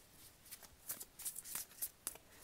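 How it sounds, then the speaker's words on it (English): Tarot cards shuffled in quick, uneven riffles and slides, a series of crisp papery bursts close to the microphone with no talking over them. "Sorry about the shuffling, guys."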